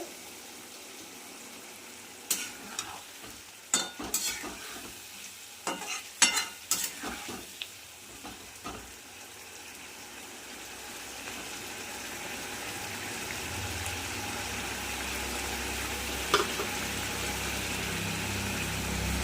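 Spiced masala for a parshe fish curry with potato and pointed gourd is stirred in a pan: sharp scraping spatula strokes at first, then a steady, swelling sizzle that carries on alone.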